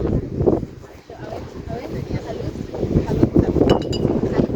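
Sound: strong wind

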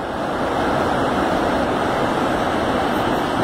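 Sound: São Francisco River rushing at waterfall, Buritizeiro

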